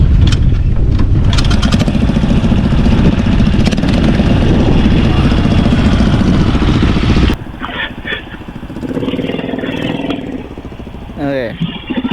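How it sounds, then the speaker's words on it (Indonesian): A small fishing boat's outboard engine runs loud and close with a steady rough drone at a beach, then cuts to a quieter scene with voices talking. "Nah, ini mesin perahunya"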